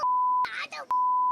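Censor beep: two flat, piercing beeps framing a short burst of muffled speech between them, the last beep cutting off abruptly.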